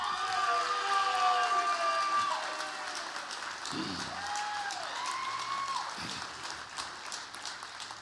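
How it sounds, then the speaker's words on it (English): An audience at the Hermann Trophy finalists announcement at the Missouri Athletic Club applauds and cheers to welcome finalist Charlie Sharp. Steady clapping carries on at moderate volume, with whoops and whistles rising above it. "Charlie obviously brought his own cheering section."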